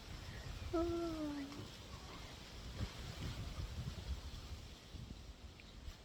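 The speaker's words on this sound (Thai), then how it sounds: "อันนี้ลมอย่างแรงจ้ะ" Strong wind blows through a garden in the morning, a steady low rushing roar against the microphone, with a brief tonal call near the start.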